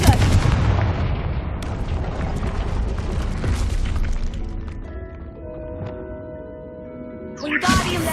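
In Hogwarts Legacy, a Confringo fire spell erupts into a loud, booming explosion whose heavy rumble fades over several seconds, capped by a sharp burst near the end.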